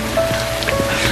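Heavy rain pours steadily onto a surface close by, a dense continuous wash with scattered louder drop impacts and a faint tonal hum running underneath.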